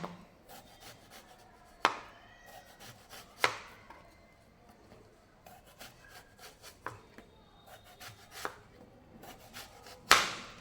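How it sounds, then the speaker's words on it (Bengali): A knife chops peeled ash gourd into small pieces on a board, giving sharp, well-spaced cutting thuds about every one to two seconds, with softer scraping and rubbing between the strikes; no voices. "এটাকে আমি একদম ছোট ছোট করে কেটে নেব"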